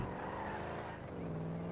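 Car engine and tire skid noise in the video game GTA V, a steady drone of driving with a rising squeal near the end, loud and continuous, no talking.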